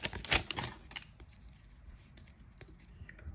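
A 1991 Fleer Ultra football card pack is torn open up close. The wrapper gives a sharp crinkling rip at the start, followed by fainter rustles and taps as the cards are handled.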